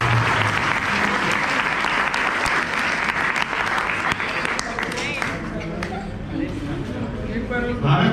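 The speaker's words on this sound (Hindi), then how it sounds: "एक बार जोरदार तालियां।" Audience applause at a water literacy program event, loud sustained clapping from a large crowd, with voices talking and murmuring underneath as it carries on.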